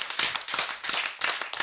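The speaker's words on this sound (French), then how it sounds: "Bien, ça va être Monsieur William qu'on peut applaudir." Studio audience on a French TV game show clapping in short bursts, several quick waves of hand claps, close and lively with no talk over them.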